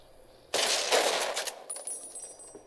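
Hollow rifle fire in the video game Fallout: New Vegas Dead Money: a sudden loud burst of shots after a brief quiet, fading into a rattling decay with thin high-pitched electronic tones lingering.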